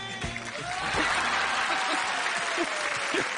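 Studio audience at a French TV entertainment show breaks into steady, dense applause that holds at an even level throughout, with a few voices and brief chuckles rising faintly over the clapping.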